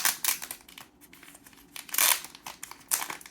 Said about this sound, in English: I'm fully capable of opening a plastic bag